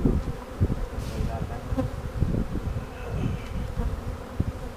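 Honeybees buzzing steadily at an open hive during supering, a dense continuous drone close by with a few brief louder passes from individual bees.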